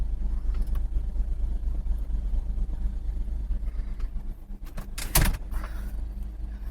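Close, steady low idle of a 2004 BMW E46 330ci engine running just after being started, with a single sharp clunk near the end.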